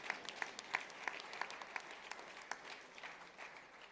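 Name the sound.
rally crowd clapping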